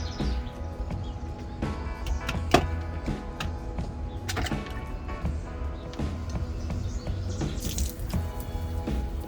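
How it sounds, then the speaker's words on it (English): Water trickles and splashes as a hot tub drains through its regular drain port, a steady close-up flow broken by repeated sharp knocks and drips. "And then we got the tub draining through its regular drain port."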